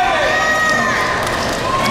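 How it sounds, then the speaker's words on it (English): Wrestling crowd at a Mid-Pro Wrestling event in the Skywalkers International Sports Complex in Decatur, a dense, continuous wall of screaming and cheering fans, loud and sustained throughout with shrill voices rising above the roar. "Fans in attendance screaming their heads off."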